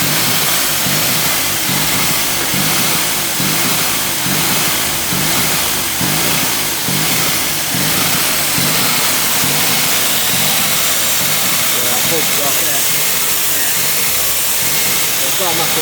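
A Volkswagen Golf R engine with a massive air leak runs loud and close, its rough steady drone rising and falling through repeated revs beneath a constant hiss, with people talking over it.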